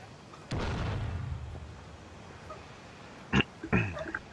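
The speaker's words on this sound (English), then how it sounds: "their cannon, the artillery piece is just bouncing off the hull of my ship" Artillery cannons fire in the video game Shogun 2 Total War, a heavy boom that rumbles off, followed by two quicker, sharper blasts near the end.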